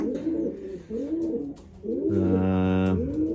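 Pigeons coo in breeding pens, with several soft rolling coos followed by a louder sustained droning coo, close by and heard alone.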